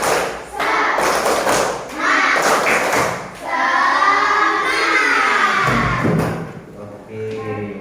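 A classroom of students doing a rhythmic spirit clap, bursts of clapping and thumping in counted groups with shouting voices, a teacher talking between the rounds.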